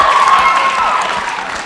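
Applause for a senator at a mock Senate session, a steady crowd clapping that holds loud for under two seconds and then eases slightly, with a faint tonal whistle near the start.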